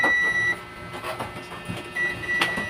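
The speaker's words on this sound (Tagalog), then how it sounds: "Yan, nagbabuzzer po siya" A digital multimeter's continuity buzzer sounds a steady high-pitched electronic beep, stops, then returns, with light clicking and handling noise between.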